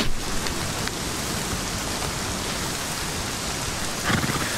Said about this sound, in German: Der Regen ist auch sehr laut.